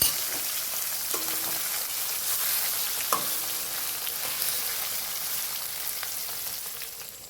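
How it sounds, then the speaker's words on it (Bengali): Bhetki fish pieces frying in oil over a low gas flame: an even, hissing sizzle throughout with a couple of soft clinks from a utensil, steady and close, no speech. "সমস্ত মাছগুলো এইভাবে দিয়ে দিচ্ছি এবং লো ফ্লেমে সমস্ত মাছগুলো আমি ভেজে নেব"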